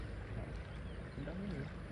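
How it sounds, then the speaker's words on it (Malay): Small boat on a lake at a waterpark, heard as a steady low motor drone with water wash, moderately close and continuous throughout. "Bot dah datang."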